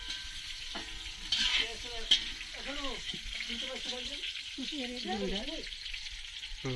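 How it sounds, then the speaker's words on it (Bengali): Potatoes frying in a pan, a continuous soft sizzle with a few clinks and scrapes of stirring, while a person talks over it close by. "আলুটা ভাজা হয়ে গেছে"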